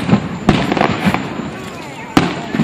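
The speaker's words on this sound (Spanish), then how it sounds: "Empezaron los cohetes." Fourth of July fireworks burst nearby in sharp cracks and booms, several reports spaced across a steady crackling, rumbling background of crowd and street noise.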